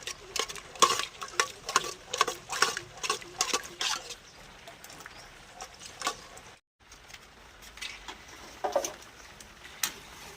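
A spoon stirs arrowroot into aloo matar chaat in quick, rhythmic scraping strokes, close and clear, then settles into softer, slower stirring after a brief pause.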